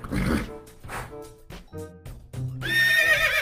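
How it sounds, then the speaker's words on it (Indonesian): A horse whinnies in a run of harmonic, close calls over a few seconds, ending in a louder, drawn-out neigh, with no talk. "ini kuda"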